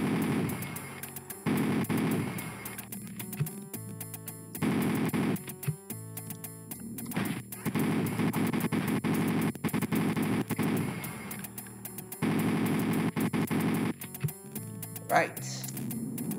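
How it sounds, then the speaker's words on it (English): Chain gun firing in the shooter game Operation Heimzahlung, rapid rattling bursts in repeated stretches separated by short pauses, with faint talk in the gaps. "let's use some chain gun"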